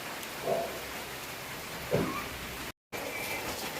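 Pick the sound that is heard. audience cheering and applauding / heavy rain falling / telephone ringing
heavy rain falling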